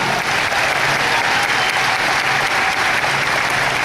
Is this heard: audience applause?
yes